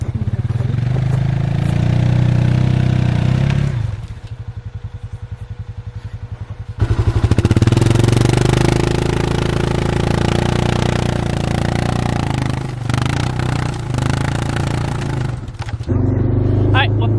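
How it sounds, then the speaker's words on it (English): A four-wheeler ATV engine labours while stopped partway up a hill, loud and close, its rough drone dipping briefly and surging back as it strains, with people talking over it. "The four-wheeler is stopped in the middle of a hill."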